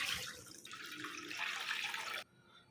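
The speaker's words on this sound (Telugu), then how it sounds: "same ఘీలో 1 litre water add చేసేసుకున్నామండి" About a litre of water is poured into ghee in a pan while making jaggery kheer, a close hissing, splashing rush that stops abruptly.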